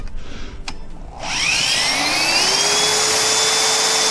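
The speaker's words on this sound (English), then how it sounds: "Let's take the drill. Okay, gonna spin this up and see what happens." An electric drill spins up the generator of a Flathead Ford engine, starting with a rising whine that settles into a steady, loud high-pitched hum that holds without interruption.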